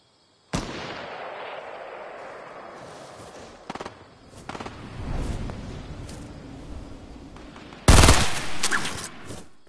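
Rapid bursts of gunfire in the video game Fortnite crack out repeatedly, some volleys close and loud, others farther off, ending in a sharp heavy burst with no talking.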